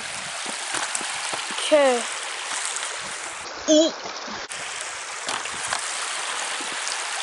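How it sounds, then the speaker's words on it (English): A creek crossed on a dirt bike outing flows with a steady broadband rush of water, close and constant, with a voice speaking briefly and a couple of short squeaky sounds over it. "So I'm gonna cross the river, the creek actually."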